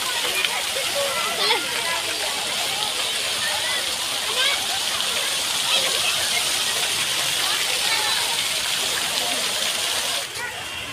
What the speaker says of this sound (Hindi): जो कि पानी का फुहारा है